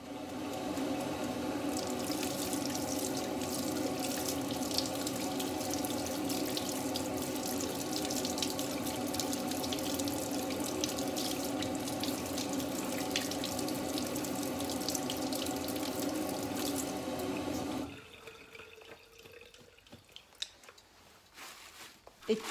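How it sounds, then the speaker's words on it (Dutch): A running tap pours lukewarm water into a cupped hand over a sink to rinse oil paint brushes, a steady splashing stream for most of the time before it cuts off, leaving quieter drips and handling sounds. "waar ik de kwasten met lauwwarm water op deze wijze sop"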